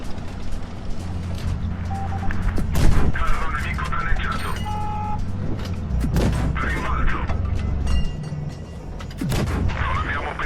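Tank cannons fire in World of Tanks Blitz with a Progetto 65, giving several heavy booming shots spread across the clip over engine rumble and mechanical clanks, with a voice talking throughout.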